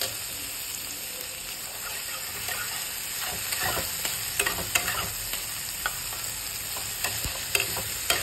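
Mustard paste, loosened with a little water, fries in a pan with a steady close sizzle, while a spoon stirs and taps against the metal in irregular clicks throughout.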